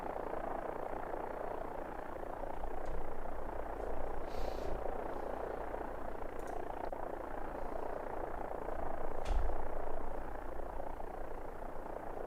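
Simulated AW-109 helicopter rotor and turbine in X-Plane 12, a steady broadband drone with a low throbbing undertone holding for the whole stretch, with brief faint clicks over it and no talking.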